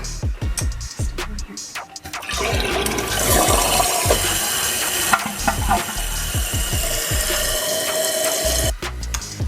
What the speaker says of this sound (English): now I'm going to try flushing it.